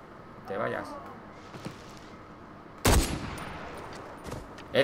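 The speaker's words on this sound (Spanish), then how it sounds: "le he pegado tres tiros de rifle" A single loud, sharp rifle shot cracks out in the video game Far Cry 4, followed by a short decaying tail. It sits amid excited talking in a quiet game scene.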